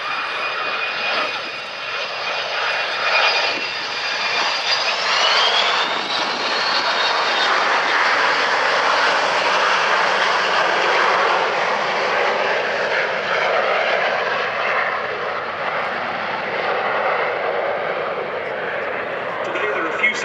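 Boeing 727 oil spill response jet flying at the Duxford air show, a loud sustained roar of engines sweeping past with a slowly shifting whine, while a voice talks over it throughout.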